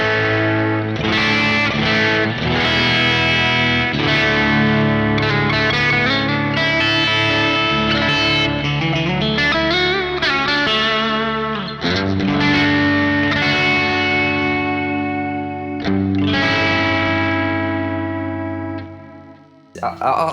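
Electric guitar fitted with a homemade pickup, played on a clean amp setting: loud, close melodic lines and chords ringing out over about twenty seconds, ending with a short pause.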